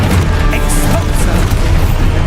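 Explosion spell blasting in the Hogwarts Legacy video game, a dense, loud burst of crashing noise and rumble that fills the whole moment amid chaotic combat sound, with a voice briefly present.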